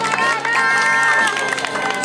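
Spectators at an inline cross-country skating race applaud and cheer for the final racer, a loud, dense burst of clapping mixed with crowd noise and a few raised voices, sustained for the whole moment.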